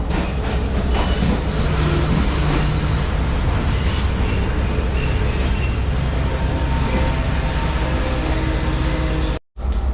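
The Mohenjo Daro passenger train shunts at Habib Kot platform in Sindh after heavy rain, its wheels squealing in a loud, continuous grinding rumble with high screeches, close by, until a sudden cut near the end.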